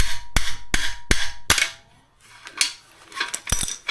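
Sharp metallic hammer blows on a Toyota Supra's exhaust O2 sensor during a catless downpipe install, four evenly spaced loud strikes, a pause, then a few more hits.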